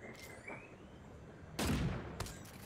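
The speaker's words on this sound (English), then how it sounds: "And there's some more people shooting us right over there." Bursts of gunfire from the mecha battle game Super Mecha Champions: a loud, dense volley of shots arriving after about a second and a half, then a second shorter burst, over a low continuous game background.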